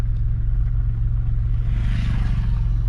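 Car moving slowly in first gear during a driving lesson, a steady low engine rumble close by with a slight rise midway and no talk.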